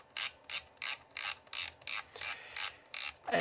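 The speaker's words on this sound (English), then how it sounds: "sounds like the film has popped off of the track in there" A toy-grade plastic 35mm point-and-shoot camera is wound with its film popped off the track, giving a close, quiet run of about nine evenly spaced ratcheting clicks and rasps, followed by a brief scrape at the end.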